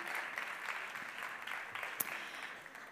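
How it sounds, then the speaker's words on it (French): Applause from the audience at an awards ceremony for a brand content grand prize, a steady mid-level patter of many hands with a few sharper claps standing out. "On peut les applaudir."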